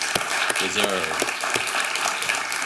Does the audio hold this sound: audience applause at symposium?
yes